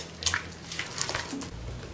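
Thick aloo bread pakora batter being stirred in a bowl after extra water is added, producing wet sloshing and squelching bursts in an uneven rhythm, close up and without speech.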